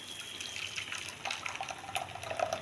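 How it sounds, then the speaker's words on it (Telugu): Drinking water poured over crushed grape juice in a mesh strainer set over a bowl, a close, soft continuous trickle and splash with small bubbling surges. "ఈ వాటర్ పోస్తే జాలికి తొందరగా దిగుతుందండి"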